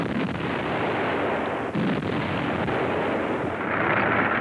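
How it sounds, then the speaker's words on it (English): WWII newsreel artillery fire against attacking English tanks near Agheila in the North African desert, a dense, loud, continuous roar of blasts and rumble with no clear gaps. "Feuer auf angreifende englische Panzer vor Agheila."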